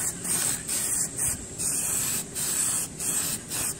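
Tire shine sprayed onto a lawn tractor tire in a quick series of short hissing bursts, about eight close aerosol puffs with brief gaps between them.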